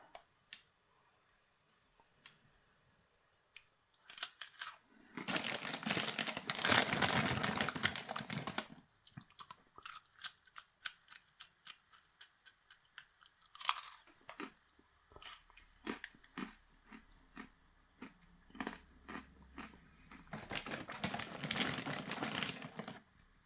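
Crunchy Kit Kat cereal being chewed close up in a quiet room, with repeated dense bursts of crisp crunching separated by sharp, clicky bites and pauses.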